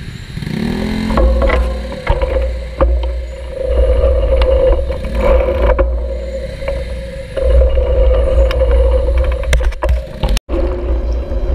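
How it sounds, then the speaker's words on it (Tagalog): City road traffic in Libis, Quezon City, heard from a moving motorcycle on a ride, with a steady low engine drone, passing vehicle rumble and occasional clatter, loud and continuous. "Traffic dito sa Blue Ridge."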